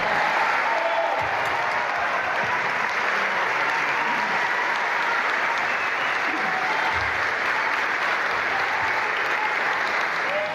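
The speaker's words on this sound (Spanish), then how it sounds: "Hubo al menos 20 interrupciones con aplausos." Business people in an audience in Acapulco applaud steadily, a thick, continuous patter of clapping that holds at an even level throughout.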